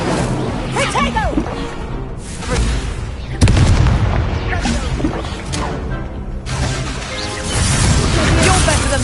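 The Incendio fire spell in Hogwarts Legacy goes off as booming, crackling blasts amid dense game effects, loud and layered, with a person talking over it.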